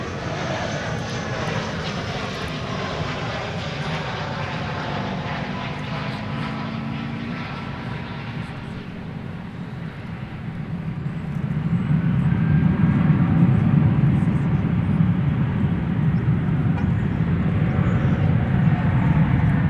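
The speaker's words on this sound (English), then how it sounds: "That was American Flight 1349 arriving from Birmingham, Alabama, an Airbus A319." An American Airlines Airbus A319 arrives at Dallas Fort Worth, its jet engines droning steadily before growing louder and deeper as it comes closer, with no talking.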